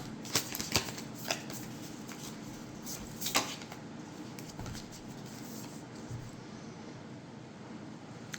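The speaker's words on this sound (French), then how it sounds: "il ne reste plus qu'à tirer une petite carte pour aujourd'hui" Cards from a Beyond Lemuria oracle deck are shuffled and drawn, giving soft papery riffles and flicks with a few sharper snaps early on, close and quiet over a low room hum.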